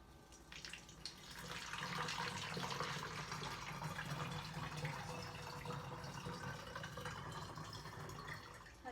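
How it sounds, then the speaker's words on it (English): Water being poured into a container for a kitchen science activity, a continuous splashing rush that swells after the first second and runs steadily to the end, moderately quiet. "So William, do you want to pour the water in?"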